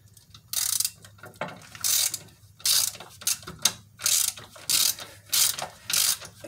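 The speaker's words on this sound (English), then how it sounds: "This one I'm wrenching on now, it's just a bolt that goes into a nut" A ratchet with a 15 mm deep well socket tightens a motor mount bolt on a Jeep 4.0 engine, its pawl clicking in about eight steady bursts, close and clear, with no talking.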